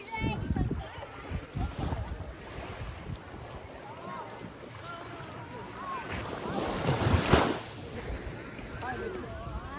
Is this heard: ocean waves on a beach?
yes